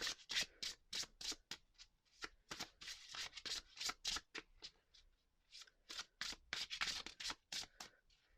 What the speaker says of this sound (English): I love the shuffling of this deck.